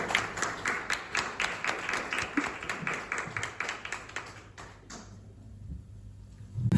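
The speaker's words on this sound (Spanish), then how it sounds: "Den un aplauso al Señor." A church congregation claps in a steady, rhythmic beat that grows fainter and stops, leaving near silence before a thump at the end.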